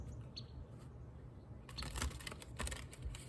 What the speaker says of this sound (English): that's our second shuffle